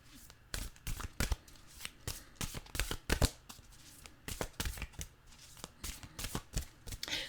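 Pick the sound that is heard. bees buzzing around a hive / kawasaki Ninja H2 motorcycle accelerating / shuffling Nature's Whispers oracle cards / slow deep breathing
shuffling Nature's Whispers oracle cards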